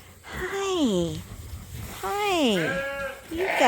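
Several sheep bleat loudly and close by in a ram pen on a farm during morning chores, long wavering calls overlapping one another with a brief pause between them.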